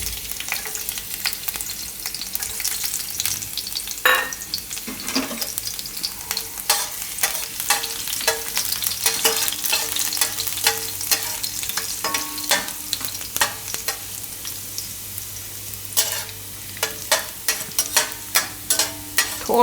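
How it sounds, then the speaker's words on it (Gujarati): Garlic pieces fry in hot oil for thecha chowmein, giving a continuous close sizzle. Frequent scraping stirs and light utensil taps cut through it, and no one speaks. "હવે આ તેલમાં આપણે આ લસણ નાખી દેવું."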